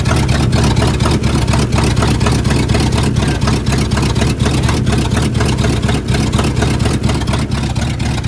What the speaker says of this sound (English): we had to have a little help from starting fluid. We got it to crank.